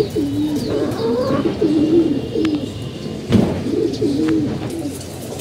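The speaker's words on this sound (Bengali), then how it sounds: "এই যে একটা কবুতর দেখতে পাচ্ছেন আপনারা" A pigeon coos in soft, repeated low rolling calls, close by and otherwise alone, with a couple of brief knocks in between.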